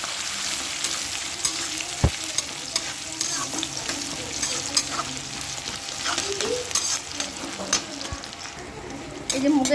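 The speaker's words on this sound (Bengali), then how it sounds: "একটু হালকা করে ভাজা করে নেব।" Moong dal frying lightly in a pan with dried red chillies, panch phoron, cumin and green chillies, giving a steady close sizzle broken by stirring scrapes and a few sharp utensil clicks, with no talking.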